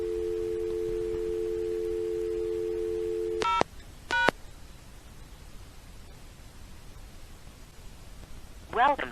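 A Northern Telecom Centurion pay phone gives a steady dial tone, then a couple of short bursts of DTMF keypad tones are dialed, followed by a quiet line and a brief rising tone sequence at the end.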